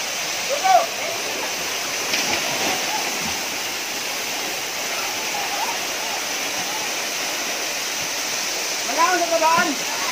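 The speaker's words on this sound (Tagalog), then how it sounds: "So yan guys, ang Leong Falls." Rushing water of Liong Falls, a hidden waterfall, pours as a loud, steady roar throughout, with brief splashes and people's voices faintly heard near the start and end.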